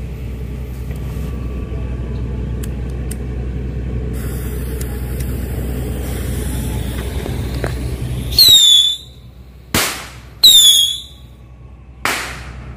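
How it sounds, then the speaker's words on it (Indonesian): Small petasan air travel firecrackers, five of them, go off after a stretch of steady outdoor rumble: a sharp bang, then quick cracks and whistling squeals, loud and near. "Yang pertama kita cobain petasan air travel 5 biji."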